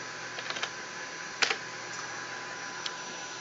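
A few faint, scattered key clicks from a computer keyboard as a name is typed into an installer's details form, quiet and sparse with a short burst near the middle, no talking.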